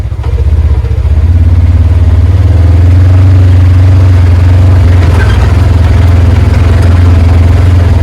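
A vehicle engine runs loud and close while driving over a rough trail, a steady low throbbing drone with some rattling clatter over the top.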